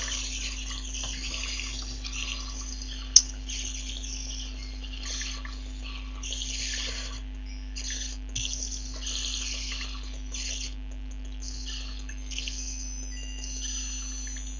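Flowing water in Minecraft, a steady trickling and splashing stream in an abandoned mine, continuous and moderately quiet over a constant low hum, with no talking.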